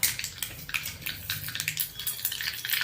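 Mustard seeds and asafoetida crackle and sizzle sharply in hot oil for tempering chutney, a busy hiss with popping bursts throughout, close and loud.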